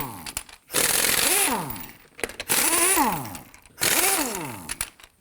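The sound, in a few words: lug nuts being loosened with a 21mm socket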